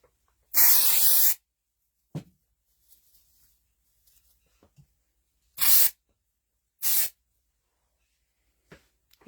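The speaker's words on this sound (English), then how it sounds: "So I'm just using some dry shampoo." Dry shampoo sprays from an aerosol can onto hair in several sharp hissing bursts, one long followed by two shorter ones, close and loud, separated by quiet pauses with small handling clicks.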